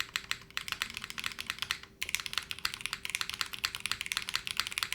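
Steady rapid typing on a custom-built mechanical keyboard with a bouncy feel, dense clacky keystrokes close up with a brief pause near the two-second mark, no talking.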